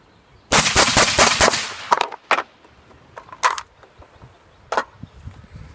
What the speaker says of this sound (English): So I just fired 10 shots rapid fire with a break in between.